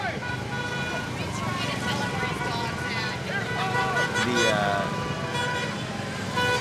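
Small Shriners' miniature cars roll past at a small-town parade, motors buzzing and a horn tooting amid steady crowd and street noise, with people talking over it.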